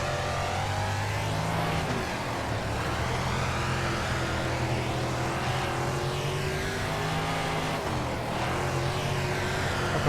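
Engines of 305 sprint cars race on the Kokomo dirt track in World of Outlaws: Dirt Racing, making a loud, continuous, droning roar with rising and falling revs as several cars run close together, and no talking.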